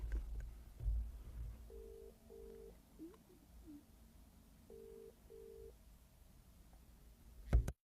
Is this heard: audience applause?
no